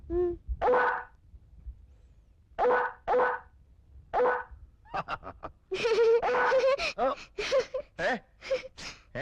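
A person imitates a dog barking, giving a series of short, loud woofs and yaps, first spaced apart, then coming quicker in a burst toward the end.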